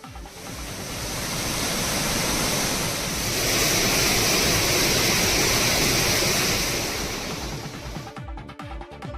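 Floodwater roaring over the Hogenakkal waterfalls, a loud, steady broadband rush that holds constant for most of the clip before thinning and breaking up near the end.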